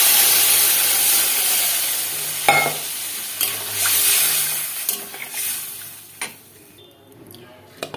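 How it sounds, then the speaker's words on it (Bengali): Pre-fried eggplant and potato being stirred in a hot pan give a close crackling sizzle with several scraping stirs, fading gradually to a quieter hiss with occasional utensil knocks. "আর বেগুন দিয়ে দেবো একটু নেড়ে চেড়ে একটু জল দিয়ে দেবো"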